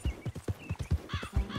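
A horse's hooves clop in a steady trotting rhythm in Red Dead Redemption 2, close and clear, with a high whinny rising near the end.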